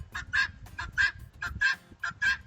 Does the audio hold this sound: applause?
no